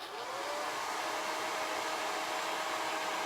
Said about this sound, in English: I'm going to hit it with the blow dryer just in case